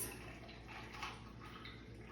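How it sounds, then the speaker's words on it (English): Swirled cocktail ingredients poured over ice in a glass, a short soft splashing trickle with faint clinks, close and quiet, no talking. "we're going to take our swirled ingredients and we're going to pour it over the ice"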